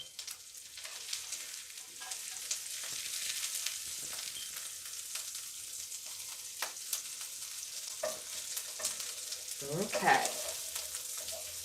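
A veggie burger patty sizzles in a pan just after being flipped, a steady close frying hiss with light scraping and clicks from a spatula; a brief spoken word comes near the end.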